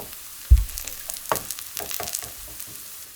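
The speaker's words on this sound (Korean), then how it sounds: "이렇게 보면 옆에서 물이 차착차착차 나오고 있어요." Cabbage pancake frying in an oiled pan, a soft continuous crackle and sizzle near the microphone with a sharp knock early on and light scraping and stirring touches.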